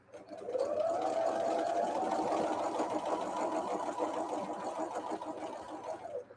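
A sewing machine stitches a quilt in one long continuous run, its motor humming steadily at close range from start to finish while no one speaks.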